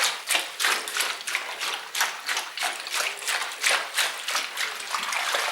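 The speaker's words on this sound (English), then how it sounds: "all the spinach has been chopped, is to give this a good 2 or 3 washes" Chopped spinach being washed in a basin of water, with rhythmic splashing and sloshing strokes repeating about every half second, close and steady, with no talk.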